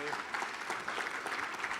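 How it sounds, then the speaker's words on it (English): Audience applause for a speaker, a steady dense wash of clapping under a brief voice. "give you another round of applause"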